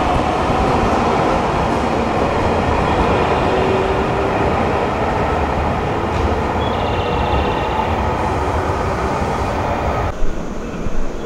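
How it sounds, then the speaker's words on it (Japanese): A yellow JR West electric train rumbles steadily nearby as it arrives at Kojima station in Okayama, a continuous dense roar of motors and wheels with a brief clunk near the end. "見慣れた JR 西日本の黄色い電車、"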